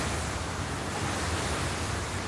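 Wind among sequoia trees, a steady broad rushing hiss with no gusts or pauses, unbroken and moderately loud throughout.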